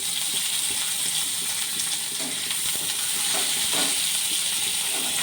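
Jackfruit seeds and vegetables fry in a pan with a steady, loud, broadband sizzle throughout, with occasional soft stirring scrapes and small pops; no voices.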